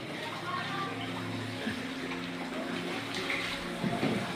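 A flowing stream in the countryside around Sapa, Vietnam gives a steady, close rushing wash of water that continues without a break for the whole stretch, with faint voices and low murmurs mixed in underneath.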